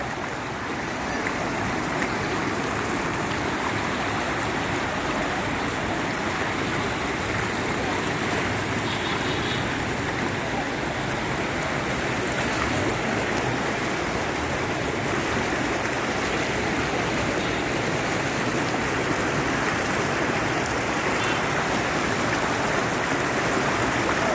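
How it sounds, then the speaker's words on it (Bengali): Strong Jamuna River current surges through a switch gate, a loud, dense, unbroken roar of rushing water close by, steady throughout with faint crowd sounds behind. "এই দেখেন স্রোত দেখেন"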